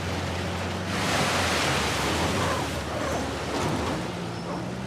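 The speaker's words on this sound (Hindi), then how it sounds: "झरना गिर रहा है" A waterfall in the video game Uncharted: The Lost Legacy, set in a mountain jungle, gives off a steady, broad rushing roar of falling water with no voices.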